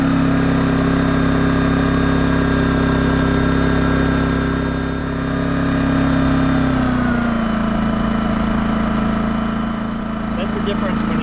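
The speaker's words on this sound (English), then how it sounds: "now you can see we got this thing running" A Wen 3600 dual fuel generator runs with a loud, steady engine drone and hum, its pitch dropping partway through as it settles, while someone talks over it.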